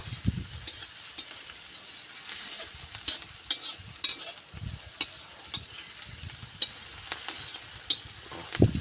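Onions sizzle gently in a cauldron while a utensil stirs and scrapes, with sharp clicks and knocks scattered throughout.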